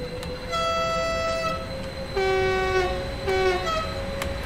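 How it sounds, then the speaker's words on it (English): A train departs in the Train Sim World 2 simulator on the Luzern to Sursee route, with several loud tonal horn toots over a steady rolling rumble, heard up close with no talking. "Let's watch the train leaving."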